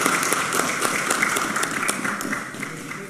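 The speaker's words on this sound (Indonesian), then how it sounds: "Kasih tepuk tangan dulu dong," Applause at a parliamentary committee meeting as a new anti-corruption commission chair is announced, steady continuous clapping from a room of people, moderately loud and sustained throughout.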